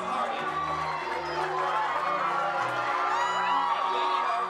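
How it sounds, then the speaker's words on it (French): Relatives cheer and shout steadily from a crowd as teenage cadets march past in a military camp parade, a continuous wash of voices and whoops. "C'est la tête haute que les cadets défilent sous les acclamations de leurs proches."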